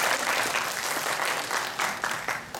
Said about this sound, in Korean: 그것도 시험에서 이긴 거 박수 한번 쳐주세요.